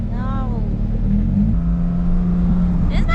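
A Porsche GT3 engine at a drift event rises steadily in pitch as it revs and accelerates, loud and close throughout, with a brief burst of higher sound near the end.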